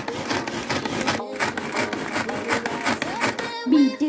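Cake batter of milk and oil beaten steadily in a bowl, a continuous close whirring churn that holds throughout before briefly changing near the end, with no talk.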